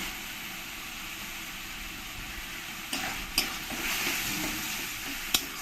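Turmeric and salt being stirred into a sizzling pomfret fish curry, a continuous frying hiss with a few soft spoon scrapes and taps near the end.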